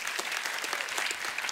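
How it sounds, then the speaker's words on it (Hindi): Vigorous applause from a studio audience for Farhan and Priyanka on a Hindi television show: a continuous, close clatter of many hands clapping at once, with no voices over it. "एक बार फरहान और प्रियंका के लिए जोरदार तालियां।"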